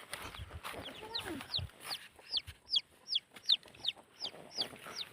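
Several chickens cluck in a repeated, fairly regular run of short calls from close by, with some rustling and handling noise early on and no speech.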